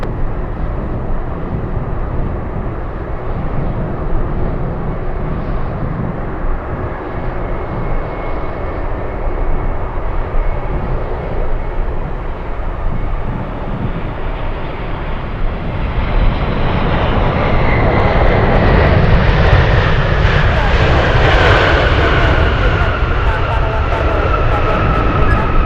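A heavy UPS cargo jet departs Anchorage, its loud engine roar swelling over the second half into a powerful, rumbling thunder with a rising whine, close and dominant, after a steadier engine drone at the start.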